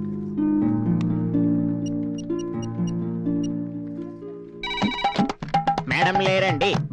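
A telephone rings repeatedly on an outgoing call, the steady electronic ring pattern repeating for several seconds before a voice answers and speaks, in a Telugu film scene.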